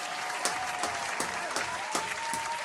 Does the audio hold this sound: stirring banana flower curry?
no